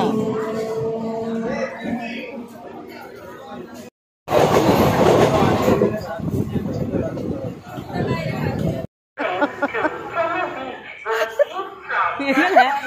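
A train rumbles past with steady rolling noise, voices and laughter mixed in over the top before and after the loud passage.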